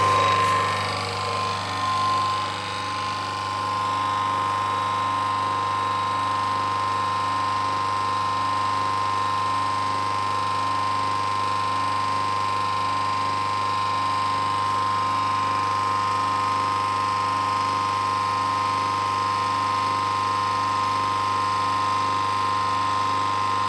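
An Autopramie AP-JC9 jet cleaner pressure washer runs at its lowest power setting with a green nozzle tip, a steady continuous motor hum and hissing spray that stays even and close throughout.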